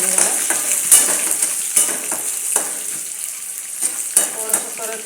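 Roasted, skinned peanuts are stirred as they sauté in a pan, with a soft sizzle under repeated scraping and clinking of a metal spoon against the pan.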